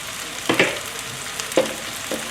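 Ginger and garlic hit hot oil for a Sichuan black bean stir fry, giving a steady close sizzle with a few louder bursts of crackle and spatter as the pan is stirred.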